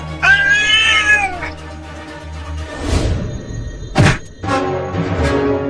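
A cartoon cat meows loudly several times, drawn-out and insistent, with scuffling and bumping noises between the cries.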